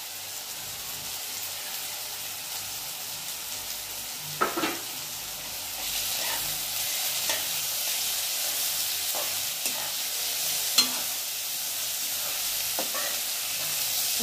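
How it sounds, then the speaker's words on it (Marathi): Ginger, garlic and thickly cut chili fry with onion in a pan, a continuous close sizzle broken by scattered clinks and scrapes of stirring. "याला लगेच हे अद्रक, लसूण आणि ही मिरची जाड जाड केलेली हे टाकते मी."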